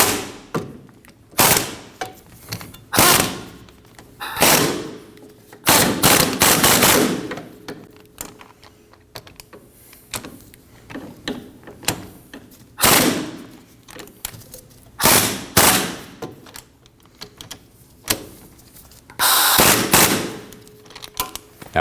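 Rear wheel hub bolts being snugged on a 2003-2006 Subaru Baja with an impact wrench, in a cross pattern: loud, close, repeated short rattling bursts separated by brief pauses.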